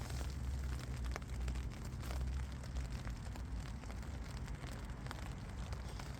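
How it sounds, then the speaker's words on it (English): Steady rain drums on a tent at night, a dense, continuous patter with a low rumble beneath, heard close from inside with no voices. "I don't mind a night in the tent, listening to the rain"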